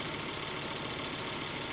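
Volvo S60/S80/V70 engine idling steadily right after a fuel filter replacement, a constant broadband rumble with no speech over it.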